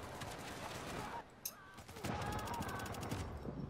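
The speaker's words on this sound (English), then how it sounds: "My fire turret shooting at another fire turret." Fire turrets shooting at each other in The Division, rapid bursts of gunfire with rattling repeated shots and a sharp crack in the middle, faint and distant-sounding under a noisy game mix.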